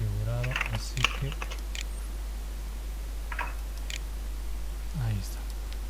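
Someone typing on a computer keyboard, a few scattered key clicks spread over several seconds beneath a person talking, with a steady low hum underneath.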